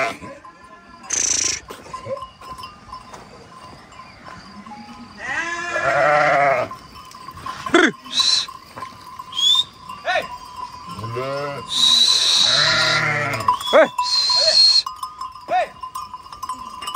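Flock of sheep bleating repeatedly near and far in a Turkish village pen, with bells clinking and people talking and calling out between the bleats.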